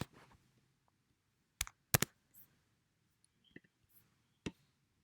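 Sharp, isolated computer mouse clicks while working in PowerPoint, a few crisp taps spaced irregularly over near silence, close and clear.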